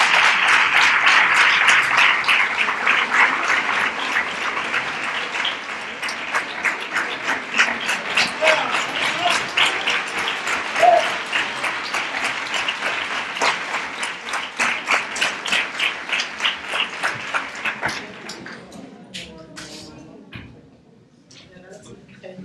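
An audience at a Three Kings proclamation and coronation event in Nerva breaks into loud, dense applause that thins into slower individual claps and fades out.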